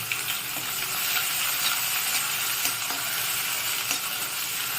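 Onions sizzle and hiss steadily in a hot pan, with faint scraping as they are stirred. The sound is loud, close and continuous.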